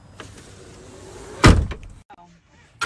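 A car door closes with a single loud thud partway through, followed by quiet and faint voices.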